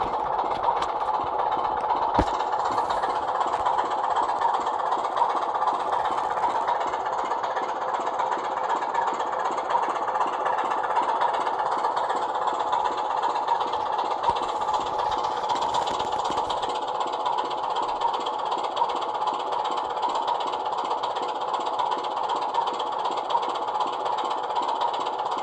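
Suttons Class 25 model diesel locomotive running, a continuous droning engine hum with a faint rhythmic knock held steady throughout, with one sharp click early on and no talk.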